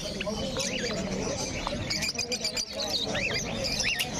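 Fischer's lovebirds at a crowded pet bird market chirp in quick rising and falling calls, several birds close by, under someone talking.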